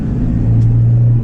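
A Volvo 242 GT's engine hums and rises slightly while driving, a short, close, low rumble heard from inside the car without any talking.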